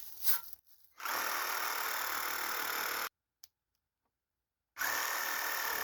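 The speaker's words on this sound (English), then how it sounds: "I'm going to just try to sawzall these out and see if that's better." A reciprocating saw fitted with a worn blade cuts out pallet slats in two loud, buzzing runs separated by a near-silent pause.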